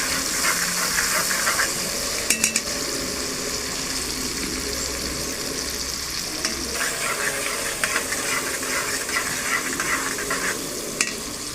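Tomato paste sizzles and fries in a pan while being stirred, a steady close hiss with occasional scraping clicks of the spoon, heard alone without talk.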